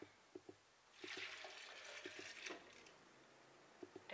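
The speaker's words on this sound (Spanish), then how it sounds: "Ok, vamos a colocar el agua." Water is poured into a blender for a fat-burning juice, a rushing splashy pour lasting about a second and a half, with a few soft knocks and taps of the container before and after.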